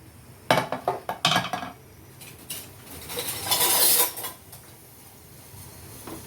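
Pressure cooker of brinjal sambar dal opened after the pressure settles, with clinks of metal utensils and a ladle scraping and mashing the cooked dal, a burst of clatter early followed by softer stirring and a louder scraping stretch.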